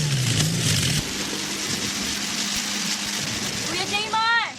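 A motorcycle engine drones steadily during a ride and then revs in a short rising burst, with people talking over it.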